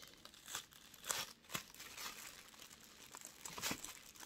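Washi tape being peeled off a plastic surface, producing close, faint crinkling and tearing rasps in short bursts, with a few sharper strips standing out.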